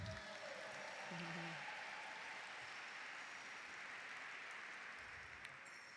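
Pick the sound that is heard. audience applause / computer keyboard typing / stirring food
audience applause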